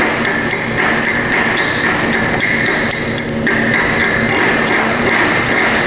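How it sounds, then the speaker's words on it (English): A chipping hammer knocking slag off a fresh flux-core weld, giving rapid, irregular sharp metallic taps and pings close up, repeating throughout over a steady background hum. "So you're gonna need you a chipping hammer, and all you do is knock that off."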